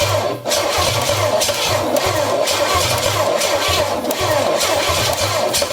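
An engine sputters and churns as it is started in a workshop, a loud, continuous mechanical running with a rough pulsing low rumble throughout, close by with no voices.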